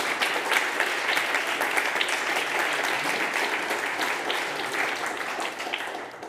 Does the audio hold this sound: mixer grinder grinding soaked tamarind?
no